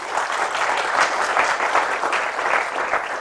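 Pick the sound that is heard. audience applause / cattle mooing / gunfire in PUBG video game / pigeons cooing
audience applause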